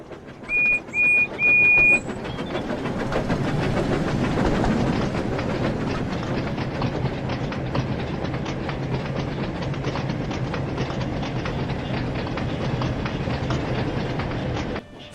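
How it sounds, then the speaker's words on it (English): A steam train rumbles steadily along the rails with a rhythmic clatter, preceded by three short whistle toots at the start. "I'm a big, strong engine," puffed Percy."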